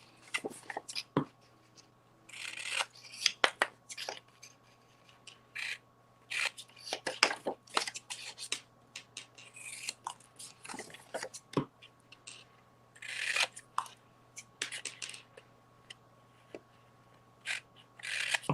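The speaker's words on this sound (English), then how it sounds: "I'm going to take my scissors and I'm going to cut straight across" Scissors snip and crunch straight across a crinkly hot cocoa packet in repeated short cuts and rustles, close up and fairly quiet.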